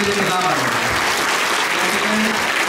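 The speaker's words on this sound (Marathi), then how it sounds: "संजय नगरकर सर यांचे देखील आपण टाळ्या वाजवून स्वागत करण्यासाठी" Dense, steady applause from a gathered audience welcoming Sanjay Nagarkar at a Karjat taluka school or community event, continuous and loud throughout with faint voices mixed beneath.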